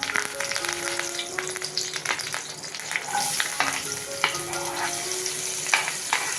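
Curry leaves crackle and sizzle loudly in hot oil in a home kitchen, a steady dense frying hiss with spitting pops and occasional stirring clatter throughout, no voices.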